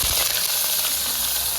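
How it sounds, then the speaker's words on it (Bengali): Onions sizzle and fry in hot oil for a chicken biryani being cooked on a rooftop picnic, a steady dense crackle with no voices. "পেঁয়াজ ভাজা হবে"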